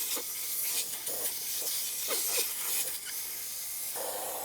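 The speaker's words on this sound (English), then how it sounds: "this is going to deflate to 19 PSI" Air hisses steadily from a tire through an automatic tire deflator set to 19 PSI, a continuous airy rush with a few brief louder puffs.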